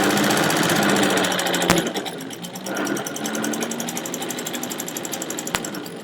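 A Kenmore Model 83 sewing machine on a steampunk-style pulley drive running steadily close by, a continuous loud mechanical hum with a fast rattling pulse, brief clunks marking changes in speed.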